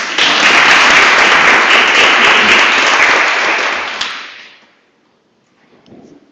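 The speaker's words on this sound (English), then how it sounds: "So a big applause for her." Graduation ceremony crowd at the Heidelberg Institute of Global Health breaks into loud, dense applause that holds for about four seconds, then tapers off into silence, with a brief faint stir near the end.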